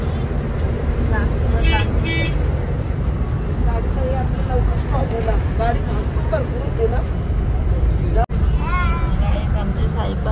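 The ride inside a moving bus brings a loud, steady engine rumble and road noise that go on throughout. Passengers and a family talk over it, and a brief sharp knock comes near the end.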